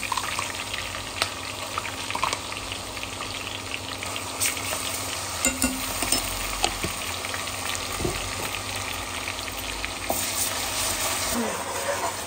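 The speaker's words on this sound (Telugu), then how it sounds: "ఫ్రై చేసేసుకుని అల్లం ఎల్లిగడ్డ అన్ని ముక్కలు పట్టుకోవాలి." Ginger garlic paste frying and being stirred in a pan for a Telangana gongura chicken pickle, a steady close sizzle with scraping stir strokes and brief utensil knocks throughout, no talk.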